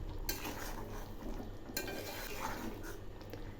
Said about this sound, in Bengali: এবার নেড়ে চেড়ে নামাবো।